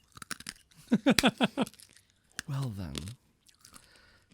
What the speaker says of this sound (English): he's eating the hard candy that I gave him